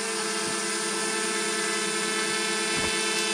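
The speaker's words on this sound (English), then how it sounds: "So, that is the drone. Up there" A DJI Mavic Mini drone hovers close by with a steady high-pitched whining buzz from its propellers, loud and unbroken with slight pitch wavers.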